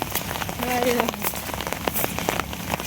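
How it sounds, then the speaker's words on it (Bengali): Heavy rain drums steadily on a surface nearby, a dense continuous patter with sharper drops striking close by, while a voice briefly speaks over it. "বৃষ্টি কমে যাইতেছে আস্তে আস্তে"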